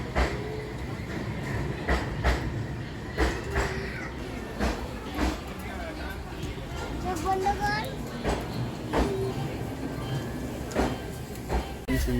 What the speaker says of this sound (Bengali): জয়পুর থেকে আমাদের এই যে ট্রেনটা ছাড়লো